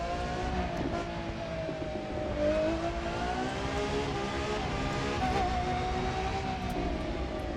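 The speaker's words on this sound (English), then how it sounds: "the most important thing is the sound for this thing, which is pretty much what has me. That V12" A naturally aspirated Ferrari V12 in The Crew 2 revs loud and close, its smooth multi-layered howl swelling and dipping steadily without a break.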